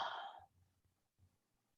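Someone yawns in a relaxed EFT mindset session, one breathy, drawn-out exhale at the start, then near silence with faint room rustle.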